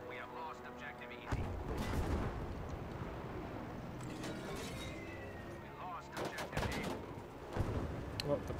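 Rapid anti-aircraft gunfire and heavy battle explosions in a Battlefield V match, booming loudly and continuously with bursts of intense firing near the start and end.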